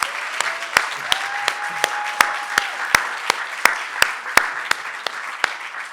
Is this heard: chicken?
no